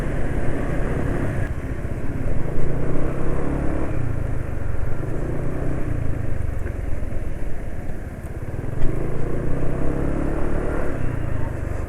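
A vehicle engine running on Petro Canada Duron HP 15W-40 oil, its revs rising and falling with the throttle while driving: a steady, loud, low rumble mixed with road noise, with no talking.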